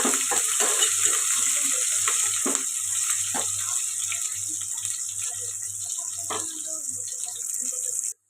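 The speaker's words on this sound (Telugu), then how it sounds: "ఉల్లిపాయలు ఇలా ఫ్రై అవుతుంది కదండి" Chopped onions and green chillies fry in a pan with a continuous sizzle and occasional stirring clicks, close by, over a steady hiss; a low hum runs underneath and a voice is faintly present.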